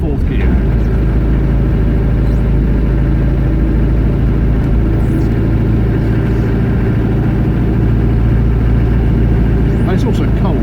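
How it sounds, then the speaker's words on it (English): A 1990 Range Rover driving uphill in fourth gear, its engine a steady low drone heard from inside the cabin, loud and continuous with some road rumble. "Going uphill, it's starting to bob, so it's down to fourth gear."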